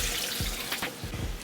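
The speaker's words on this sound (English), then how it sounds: "We're gonna add 2 cups of water." Water pouring from a cup into a blender jar holding hot cooked summer-recipe ingredients, a short splashing gush with a couple of bursts, close and fairly loud.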